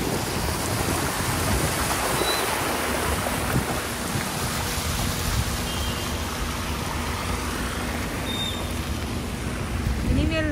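Floodwater after a cyclone pours like a waterfall, a loud, dense, unbroken roar of rushing water filling the whole clip with no voices.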